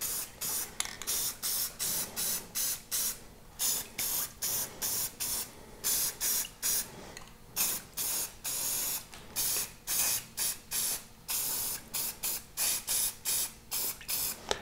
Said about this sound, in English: So we're gonna spray this on top of the water.